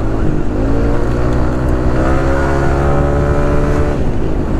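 Yamaha Nmax scooter with a modified, lathe-turned CVT pulley revs steadily and loudly, engine pitch climbing smoothly throughout with a continuous whine and no pauses.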